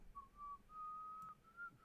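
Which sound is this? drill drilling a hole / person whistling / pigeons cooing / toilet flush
person whistling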